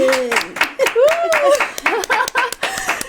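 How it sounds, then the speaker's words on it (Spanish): An audience claps in a short burst of applause, with voices calling and cheering over the clapping. "os pido por favor otro aplauso para recibirla"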